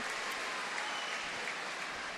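Dense, continuous applause from a stadium crowd at a sports match, steady and evenly spread with no pauses.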